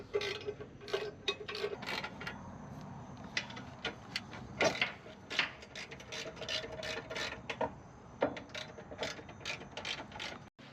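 Mount bolts on an Ineos Grenadier rock slider are snugged down with a ratchet, giving rapid rattling clicks in bursts with short pauses and occasional metallic clanks, close by, without talk.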